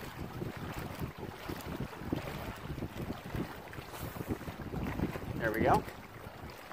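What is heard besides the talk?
wind while fishing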